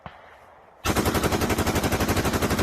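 A full-auto gun blazing in a video game: after a quiet moment, a sudden loud, rapid, evenly spaced stream of shots runs unbroken to the end.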